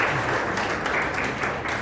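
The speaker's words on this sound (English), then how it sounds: "Let's give a clap again." Seminar attendees at a tourism event give a round of applause, steady close clapping from many hands without talk over it.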